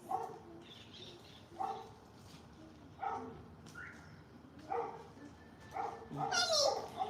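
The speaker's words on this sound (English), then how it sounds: "Oh, big boy, it's just a doggy." A dog barks in short repeated bursts roughly every second and a half, with whimpering yips between, moderately near, while a person talks soothingly over it.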